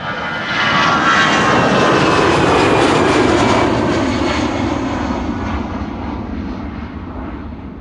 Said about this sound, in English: The A340 and the Singapore A350 are coming.